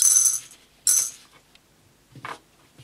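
Small dice spill out of a Dice Bomb magic trick: bright, close rattling clatters in two sharp bursts, then a smaller third spill, with near silence between.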